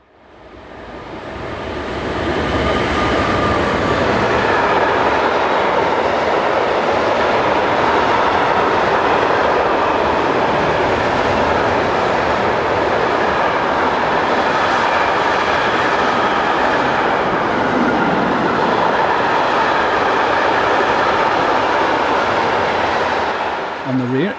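Trains hauled by locomotives pass through the closed Varsen station in Europe, a long, loud, continuous rumble and clatter of wagons on the rails that builds quickly and holds steady for over twenty seconds.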